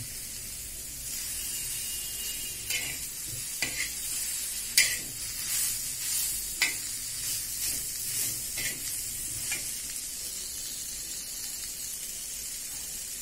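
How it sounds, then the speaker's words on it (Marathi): Garlic, cumin, poppy seeds, coriander seeds, ginger, coriander stalks and green chillies fry in hot oil with a steady loud hiss, punctuated by sharp stirring scrapes and spatters in the middle stretch; no talking. "लसूण, जिरे, खसखस, धने, अद्रक, कोथिंबीरच्या काड्या, थोडी कोथिंबीर, 2-3 हिरव्या मिरच्या, हे सगळं तेलामध्ये छान परतून घ्यायचं"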